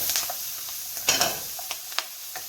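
Onions cook down in a pan for a creamy mushroom sauce, a soft sizzle punctuated by a few sharp clinks and scrapes of a utensil, close up with no voices.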